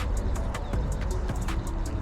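Pigeon or dove cooing beside a pond during rain, with repeated short calls at a steady rhythm over a constant background wash of rain and water noise.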